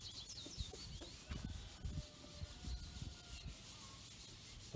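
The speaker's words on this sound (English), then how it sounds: "And then I'm just taking a little pad and just kind of rubbing it in. This is just a Scotch-Brite pad." A Scotch-Brite pad rubs over a van's surface where a logo has been removed, giving close, continuous scratchy scrubbing strokes, with faint bird calls in the background.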